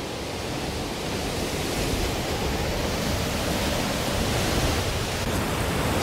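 Ocean surf pounds the south coast beach in a steady, loud, unbroken roar of breaking waves, with no voices and no pauses.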